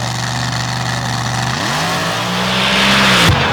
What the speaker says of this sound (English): Wow, big pop right off the starting line.